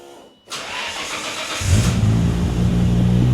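A Nissan R32 GTR engine with a Tomei sports exhaust cranks and catches, then settles into a deep, throaty idle with a loud exhaust rumble close by.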